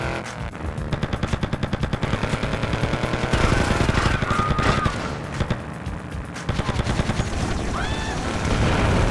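Loud, dense gunfire and grenade blasts in the PS2 video game GTA Vice City Stories, with rapid machine-gun-like bursts running almost continuously and heavy booms under them, plus brief shouting over the din.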